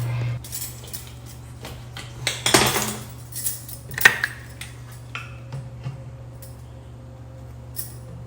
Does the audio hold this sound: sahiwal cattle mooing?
no